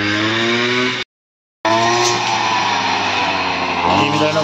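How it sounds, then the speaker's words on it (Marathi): A paddy rice harvesting machine runs out in the fields, its steady loud engine drone filling the scene, cutting out for about half a second and then resuming at the same level. "भात कापायची मशीन बघा"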